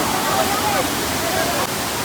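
A steady, loud roar of the Manjhar Kund waterfall in Bihar runs unbroken throughout, close and continuous, with a voice faintly present beneath the rush of water.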